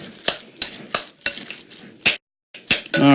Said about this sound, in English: And we'll mix this in